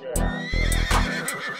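A horse whinnies loudly up close, a shrill, shaky neigh broken into a few pulses over under two seconds.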